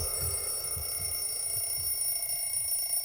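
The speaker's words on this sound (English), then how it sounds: "saw the ringing alarm clock on the bedside table, knocked it off and dozed off again" An alarm clock on a bedside table keeps ringing in the Everlasting Summer video game, a faint, continuous bright tone over a soft low pulsing rattle that lasts the whole stretch without pause.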